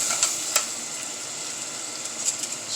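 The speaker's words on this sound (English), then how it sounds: "stir frying a little bit" Sofrito recaito is stirred and fried in a pot, giving a bright continuous sizzle with a few sharper stirring scrapes on top and no talking.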